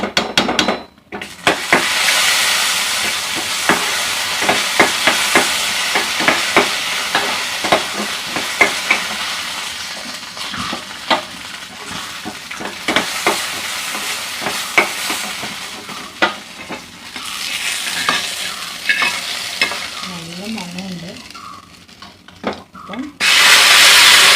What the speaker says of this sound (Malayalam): അതിലോട്ട് ഇതാ അണ്ടിപ്പരിപ്പും കൂടി നമുക്കൊന്ന് മൂപ്പിച്ച് ഇതിലോട്ട് ഇടാം.